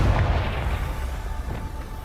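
Confringo blasting spell fired in the video game Hogwarts Legacy, a dense booming explosion with a rumbling low end that swells early and then rolls on steadily with small crackling bursts throughout.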